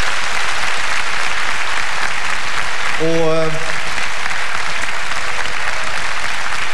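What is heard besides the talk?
TV studio audience applause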